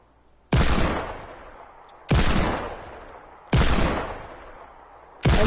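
Desert Eagle pistol fire in Fortnite: four loud, sharp shots spaced about one and a half seconds apart, each with a long decaying tail, no talking.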